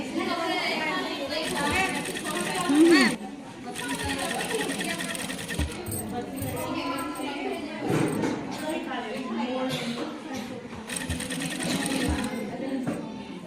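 A sewing machine stitches a night suit for a three-to-four-year-old child in bursts of fast whirring running, stopping and restarting, with someone talking over and between the runs.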